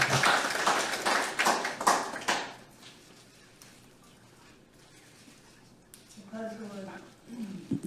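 An audience at a Korean parliamentary debate forum applauds for a couple of seconds in a burst of scattered claps that fades away, followed by quiet room tone and then a voice speaking.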